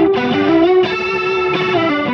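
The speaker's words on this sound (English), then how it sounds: "I set this to be like a rotary instead of adding an actual rotary" Electric guitar runs through a Fractal AX8 preset set for a rotary-like swirling effect, with loud, sustained distorted notes shifting in a few phrases over about two seconds and no voices.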